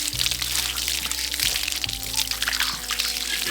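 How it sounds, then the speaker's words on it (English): Water pours and splashes steadily while rinsing out a cast iron potjie pot, a continuous close running-liquid wash with no talking. "And now we can go ahead and rinse off the pot."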